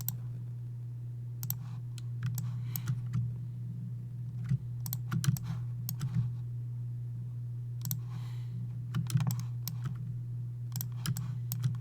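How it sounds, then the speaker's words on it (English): Computer keyboard keys are pressed in scattered clusters of sharp clicks, some quick runs and some single taps, over a steady low electrical hum with no talking. "D on the keyboard"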